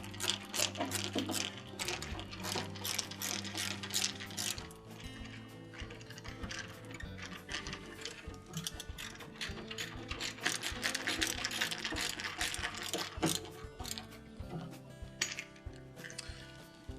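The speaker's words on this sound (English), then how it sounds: "tilt the valve up until the screw hole lines up, and we'll reinstall that 5/16 screw." A ratchet drives a 5/16 screw back in to hold the dual inlet water valve on a General Electric refrigerator. Rapid, dense clicking runs almost without a break, close up, with no talking.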